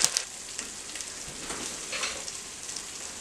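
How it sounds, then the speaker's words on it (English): Curry paste for khao soi fries in oil in a pan over medium heat, a continuous close hiss and sizzle with faint crackling and a few light stirring clicks. "and then add all the curry paste. Make sure the heat's on a medium and just cook that for about 5 minutes"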